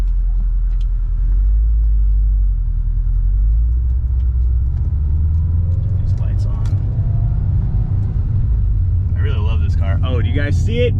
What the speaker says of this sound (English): we're just gonna test drive it around the block